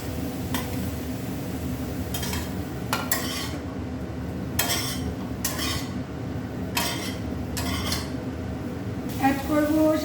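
Capsicum and paneer pieces stir-fried in a pan, with repeated scraping and clinking of a utensil against the metal over a steady background sizzle, in short bursts of stirring.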